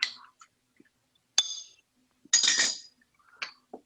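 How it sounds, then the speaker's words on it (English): Spoon clinks against a glass or ceramic bowl while a watermelon, honey and mint salad is stirred, in short sharp bursts separated by near-silence. "I'm just going to stir it all around."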